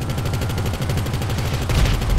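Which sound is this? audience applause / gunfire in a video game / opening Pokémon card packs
gunfire in a video game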